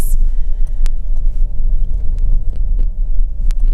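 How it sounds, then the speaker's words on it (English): A car leaves the road and rolls onto a bumpy patch of grass, giving a steady, loud low rumble inside the cabin with scattered small knocks and thumps. Nobody speaks. "It's a bit bumpy because I drive off of the road onto this patch of grass."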